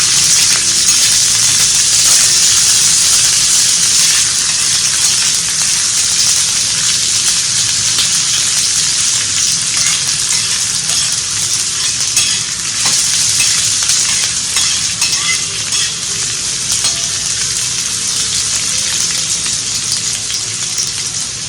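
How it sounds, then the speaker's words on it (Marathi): Onion sautéing in hot oil for Puneri misal, a loud, dense, unbroken sizzle that hisses steadily throughout with faint stirring ticks. "कांदा पण आपण चांगलं परतून घेऊया"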